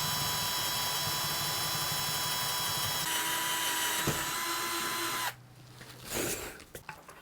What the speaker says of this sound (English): I need to drill a 10 millimeter hole for our potentiometer shafts.